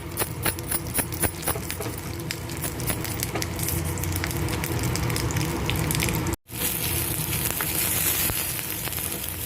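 Green chillies fry in a little oil in a pan, giving a loud continuous sizzle and crackle close by with occasional pops, a brief cut partway through, and no talking.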